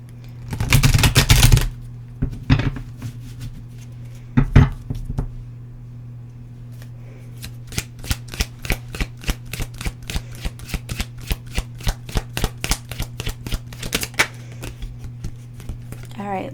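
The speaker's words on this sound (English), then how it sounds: "let's go ahead and pull a couple of these cards" Tarot cards being handled and shuffled, a rapid run of crisp riffling flicks after a few louder handling rustles, close and distinct while a person talks.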